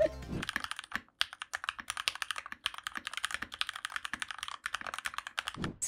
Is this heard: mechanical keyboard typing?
yes